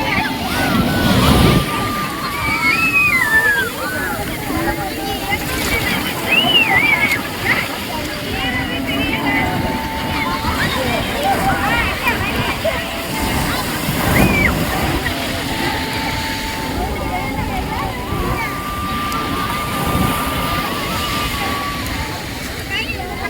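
Sea waves splash and slosh at Dhanushkodi beach, a steady wash of surf running under nearby people talking and playing in the water throughout.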